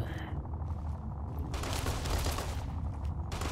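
Bursts of gunfire from Fallout: New Vegas crackle in rapid, dense volleys, loud and close, with a brief lull in the middle before the shooting resumes.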